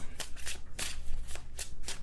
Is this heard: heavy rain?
no